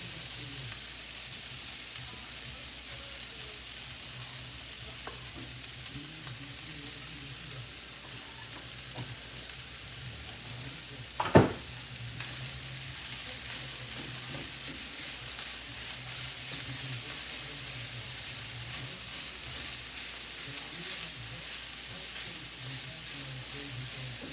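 Spam, leftover rice and veggies sautéing in a pan for a cheap budget meal: a faint, steady hiss of frying that runs throughout, broken by a single sharp knock near the middle.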